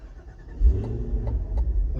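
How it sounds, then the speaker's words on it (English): A 2025 Cadillac Escalade V-Series ESV's supercharged V8 engine starts up inside a hot garage, a deep low rumble swelling after a brief crank and settling into a steady idle. "But let's fire it up since it's really hot in here."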